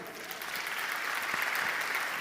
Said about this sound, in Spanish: Lo recibimos, por favor, con un fuerte aplauso.